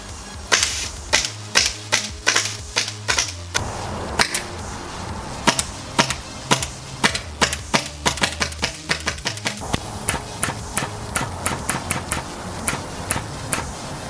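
A 3D printed HPA airsoft gun fires close up in quick sharp pops, first singly, then in fast bursts and rapid strings, each crack loud and snappy.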